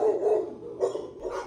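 Several dogs bark in short bursts inside a crowded adoption center kennel, close and moderately loud, with pauses between barks and no talking.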